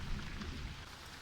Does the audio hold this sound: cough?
no